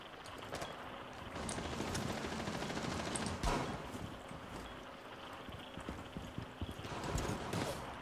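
Rapid bursts of gunfire crackle through a dense stream of Rainbow Six ranked match sound effects, with sharp louder shots standing out at a moderate level.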